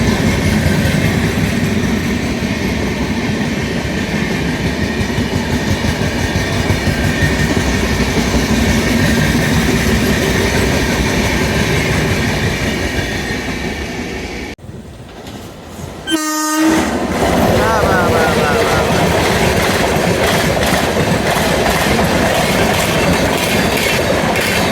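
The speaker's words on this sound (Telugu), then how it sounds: "వ్యాప్ 7తో గుంటూరు నుంచి సికింద్రాబాద్కి వెళ్ళే ఇంటర్సిటీ ఎక్స్ప్రెస్" The Guntur–Secunderabad Intercity Express, hauled by a WAP-7 electric locomotive, thunders past with a loud continuous roar of wheels and carriages, a brief dip, then a sharp horn blast before the rumbling resumes.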